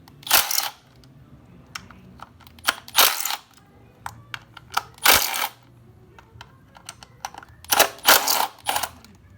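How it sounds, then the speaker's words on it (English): A 10mm wrench loosens the bolts holding the four ignition coils on a Toyota 2ZZ-GE engine, a series of close ratcheting clicks and metallic bursts repeating in short clusters with quiet pauses between. "Get your 10mm and take off the bolts."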